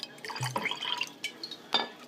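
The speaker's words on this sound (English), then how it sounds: "So I just like to pour myself a little bit of that, and then a little bit of this." A small splash of sparkling drink is poured into a glass, giving a short run of light, close trickling and dripping over roughly two seconds, with a brief fizzy, glassy edge.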